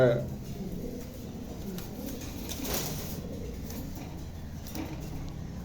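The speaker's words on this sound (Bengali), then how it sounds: "চমৎকার এই পাঁচ পিস কবুতর" Five pigeons kept for sale coo in low, repeating murmurs over a steady background hum, with a faint human voice now and then underneath.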